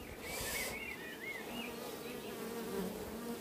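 A honeybee swarm buzzing steadily nearby at a beehive, a continuous dense drone with individual bees' wingbeat tones weaving in and out, no voices.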